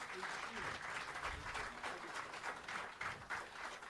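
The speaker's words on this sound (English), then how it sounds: "Can we have a huge round of applause for..." Workshop audience giving a round of applause, a continuous, soft wash of many hands clapping at a distance, steady throughout.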